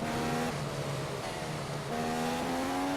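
A Formula 1 car engine in the F1 2015 racing game drones at a steady high pitch, dips briefly, then climbs again as it accelerates, moderately loud with no talk.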